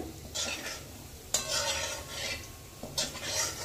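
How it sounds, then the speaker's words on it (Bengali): Semolina gulab jamun balls fry in hot oil while a spoon stirs them, making repeated swishing strokes over a soft, continuous sizzle. "এভাবে একটু নেড়ে চেড়ে ভেজে নিতে হবে"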